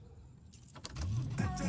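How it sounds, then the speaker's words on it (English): A car is started with keys: brief jangling and clicks, then the engine catches and settles into a low running rumble, all close by. "How about you start by turning the car on?"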